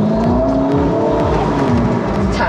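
A 1000-horsepower Ferrari SF90 Stradale drives hard on a track, its engine note rising and falling in loud, close, uneven revving surges with faint tire noise.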